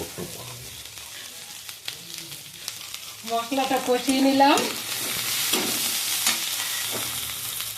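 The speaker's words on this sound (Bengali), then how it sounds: "দেখুন, মশলাটা কষিয়ে নিলাম।" Spice paste for ridge gourd kofta sizzles and fries in a pan while being stirred, with a burst of scraping in the middle followed by a steady, close crackle.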